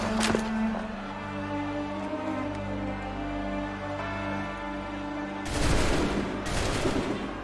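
A volley of gunfire in a video game cutscene: a sharp crack opens, and after a stretch of musical tension two loud bursts of massed rifle shots follow close together near the end.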